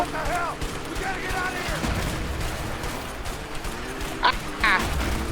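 Explosions and gunfire go off in the video game A Way Out over a continuous rumbling game soundtrack, with a couple of sharp blasts near the end. Players talk over the action.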